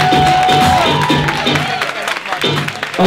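A crowd applauds and cheers for a beginners' dance performance, loud and close, with voices and shouting mixed through the clapping across the whole stretch.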